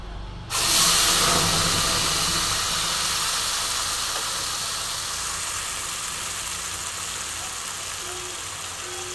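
Ground spice paste drops into hot oil over tempered whole spices for a Bengali coconut dish, bursting into a loud sizzling hiss that stays steady and slowly eases.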